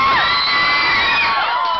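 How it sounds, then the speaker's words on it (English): A concert crowd screaming and cheering at a show, a loud, dense wash of high-pitched shrieks and whoops from many voices filling the whole stretch. "for the guys who just screamed, that's screaming, that's not singing"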